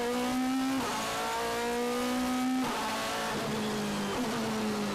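A DTM race car pulls out of the pits at Oschersleben on rain tyres, its engine revving hard through several rising gear runs, loud and steady, with no voices over it.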